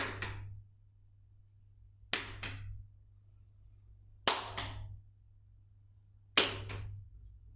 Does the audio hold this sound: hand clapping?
yes